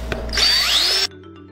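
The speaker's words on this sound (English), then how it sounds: "sanding on the inside and sanding outside and everything" A power tool whirs while sanding a wooden ring made from a skateboard, a single high-pitched burst of under a second that starts abruptly and cuts off, then near silence.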